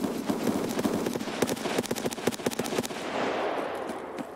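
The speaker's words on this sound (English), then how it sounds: "So we're hearing gunfire to our right in the shanties." Bursts of rapid gunfire in the video game Escape From Tarkov crackle in quick succession, fairly loud and close, then taper into a rumbling background near the end.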